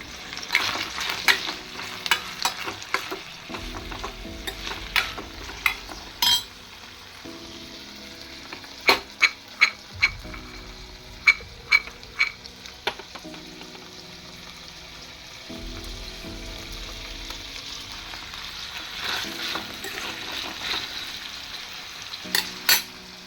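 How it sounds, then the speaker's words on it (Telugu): Cumin and mustard seeds frying in oil in a pan for tomato chutney, a continuous sizzle broken by clusters of sharp spoon clinks and scrapes against the pan as the seeds are stirred. "అవి ఒక 5 మినిట్స్ అలా ఆయిల్‌లో కొంచెం స్మెల్ పోయేదాకా వేయించుకోవాలి"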